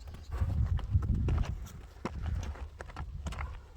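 A horse's hooves clip-clop in close, uneven steps with a low rumble of movement between the strikes, fairly loud and with no talk over them.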